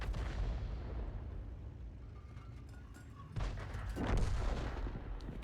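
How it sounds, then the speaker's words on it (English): An FV304 self-propelled artillery gun in a tank video game firing at a heavy tank, heard as a faint rumbling mix with a couple of muffled booming blasts toward the end. "We're now firing at that heavy tank number 6 again."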